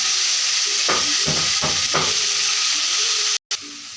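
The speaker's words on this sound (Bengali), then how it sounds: "এই যে মাংসটা লাল করে ভেজে নিয়েছি" Meat pieces frying in a pan with potatoes and onions, a continuous close sizzle with a few stirring strokes around the middle and a brief dropout near the end.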